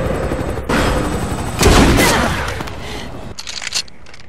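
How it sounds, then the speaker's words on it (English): Two loud shots from a standard sniper rifle in Resident Evil 6, each a sharp crack with a rolling echo that fades slowly, followed by faint mechanical clicks of the bolt or reload. "two shots from the regular sniper rifle"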